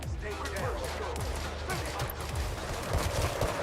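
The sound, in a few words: grenade explosions and gunfire in a video game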